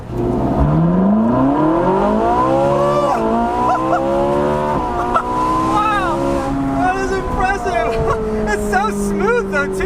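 A 2013 Ferrari 458 Spider in race mode revs up along a back road, its engine note climbing smoothly and loudly through the gears with sharp upshifts, and someone talks over it.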